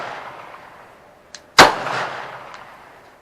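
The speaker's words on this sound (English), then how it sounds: "This is the first time shooting the Glock 17 MOS." A Glock 17 MOS pistol fires a single loud, sharp shot at a shooting range, preceded by a faint click and followed by a short fading echo.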